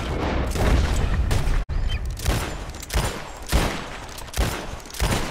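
Rifle gunfire in Red Dead Redemption 2 rings out in a rapid string of loud, close shots with booming tails, one sharp crack breaking the sequence and further volleys following at irregular intervals.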